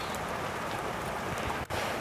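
Rain falling outdoors, a soft, continuous patter and wash that stays even and fairly quiet throughout, with no voices.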